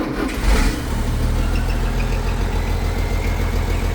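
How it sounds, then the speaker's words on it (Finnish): A tractor engine runs steadily at idle with a low, even rumble, and a faint, thin turbo whistle rides on top of it throughout. "Turpo viheltää."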